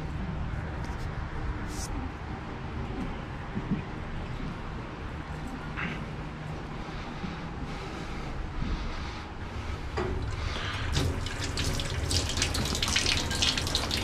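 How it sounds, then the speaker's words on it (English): Tap water running steadily into a sink while a plate used for line etching is cleaned, a constant loud rushing wash with occasional clinks and splashes building toward the end. "I have to bring this over to the sink and clean it"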